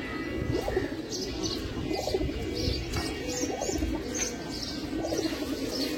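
Several pigeons coo in repeated low rolling phrases, close by, with faint chirps and light rustling in the background and no speech.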